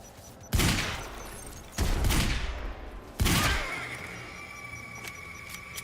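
Three loud, close blasts from grenade explosions in the game Quantum Break, each a sharp broadband burst trailing off over about a second, with a lingering ringing tone after the last.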